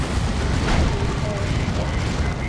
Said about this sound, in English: There's that explosion on death.